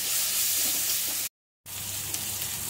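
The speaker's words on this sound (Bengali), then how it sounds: "টমেটোটাকে দিয়ে ভালো করে। তো টমেটোটা তো আমি গোটা দিয়েছিলাম না, ওই জন্য আমি এই তেলের উপরে ভালো করে ভেজে নিচ্ছি।" A whole tomato frying in hot oil in a pan, a steady loud sizzle interrupted by a brief total silence before the sizzling resumes.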